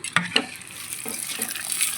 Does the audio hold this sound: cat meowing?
no